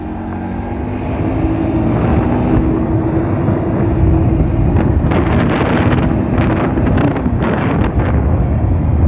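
Loud, steady wind roar buffeting a helmet-mounted microphone while riding a motorcycle, with a low engine drone underneath and gusty rumbles growing rougher toward the end.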